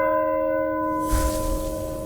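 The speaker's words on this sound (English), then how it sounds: "as the bell rings from outside" A bell ringing outside in an audio story setting, with a sustained resonant tone swelling into a struck peal partway through, steady and fairly loud with no voices.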